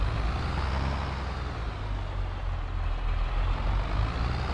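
A truck idling in a video game while dropping off a trailer, a steady low diesel rumble with broadband engine noise that stays constant and close throughout.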